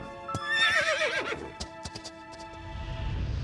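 A cartoon horse, a wild brumby in a snowy setting, gives one loud, close whinny with wavering pitch, followed by a few sharp clip-clop hoof knocks and a rising low rumble.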